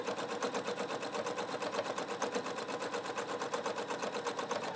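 Husqvarna Viking Sapphire 930 sewing machine running steadily during free-motion quilting, a fast, even mechanical stitching rhythm that stays close and continuous throughout with no voices.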